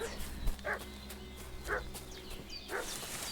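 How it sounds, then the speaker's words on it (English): A dog in Kingdom Come: Deliverance II barks three times at roughly one-second intervals, moderately distant, over a steady low ambient background. "What's that dog making such a fuss about?"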